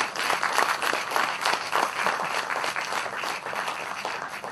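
A crowd applauding steadily for several seconds at a film festival masterclass, dense clapping heard at a moderate distance with no speech over it.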